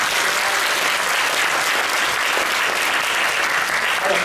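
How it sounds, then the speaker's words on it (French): Audience applauding at the Monaco Magic 2023 opening ceremony, a dense, steady burst of clapping from a large crowd that holds at full strength for several seconds. "Applaudissements pour Cédric."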